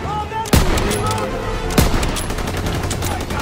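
Rifle and machine-gun fire in the World War II shooter Call of Duty WW2, during the Operation Cobra campaign mission, with two sharp close shots standing out over a dense, continuous battle din.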